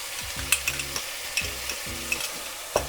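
A puree of onion, garlic and ginger cooks in a pan for butter chicken, bubbling and sizzling steadily. Spoon clicks and stirring scrapes come at intervals, close and moderately loud, with no speech.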